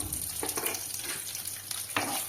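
Curry leaves frying in a pan for a thuvaiyal, giving a soft, steady sizzle with light stirring scrapes, faint and close, with no voices.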